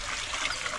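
Plain water being poured into a cooking pot while making chicken and seeragam samba rice, a steady, close trickling splash that runs through the whole short moment.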